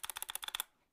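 Rattly keys on a Drop Alt low profile keyboard clack in a quick burst of about ten close, light taps, then stop abruptly.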